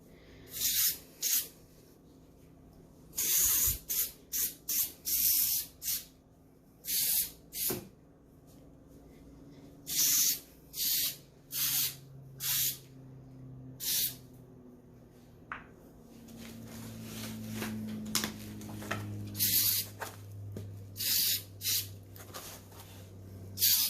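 Short bursts of spray paint hiss, applied lightly to turn a chili pot prop gray instead of solid black, come in repeated separate puffs with quiet gaps between them, and a low hum sits underneath.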